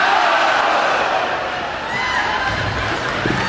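A large Tea Party rally crowd roars and cheers in a steady, dense wash of voices, loud and close, with no pause through the stretch and a few louder shouts near the end.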